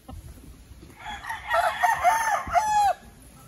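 A free-range rooster crows once, loud and close, a drawn-out call of about two seconds over quieter background farm ambience.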